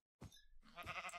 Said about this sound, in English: There's my sheep.